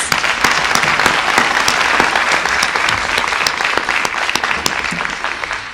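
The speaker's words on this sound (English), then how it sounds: "Let's give them a round of applause." Loud, sustained applause from a large audience at a school honors concert, dense clapping filling the whole stretch without pause.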